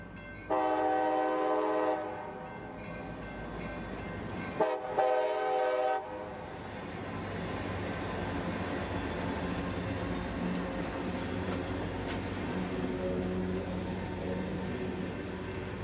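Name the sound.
CSX freight train Q541 passing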